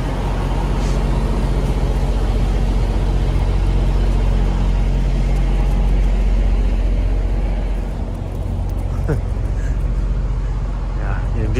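Loud, steady roar of heavy traffic with big trucks and cars passing a wide US highway gas station rest stop in North Carolina, constant and close, with occasional voices and a dog's owner calling nearby.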